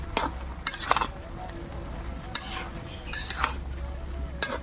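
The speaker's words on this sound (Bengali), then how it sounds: "তো দেখুন বন্ধুরা, এবার আমি চাপা খুলে দেখে নেব।" Metal pot lid lifted off a pot of mixed vegetables, with scattered clinks and scrapes of cookware over a quiet kitchen background.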